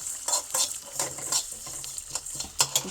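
Fish pieces frying in a pan with garlic and onions, close and moderately loud, with a steady sizzle broken by repeated scraping and stirring clatter of a utensil against the pan.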